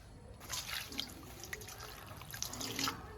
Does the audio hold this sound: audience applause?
no